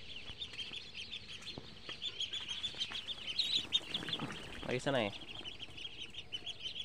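Young ducklings on a homestead duck farm peep and chirp in a busy, continuous chorus at moderate distance, with a person speaking briefly over them.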